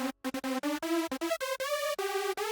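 A bright supersaw synth lead, built from unison voices with detune, plays a short melodic phrase of quick stepping notes that shift pitch, loud and alone.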